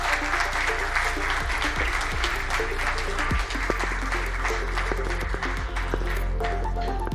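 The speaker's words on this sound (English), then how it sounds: "let's give them a round of applause" An investment summit audience applauds as a panel takes the stage, a dense, loud, sustained wash of clapping that holds steady throughout, with faint voices underneath.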